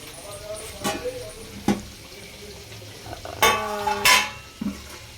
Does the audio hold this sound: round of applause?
no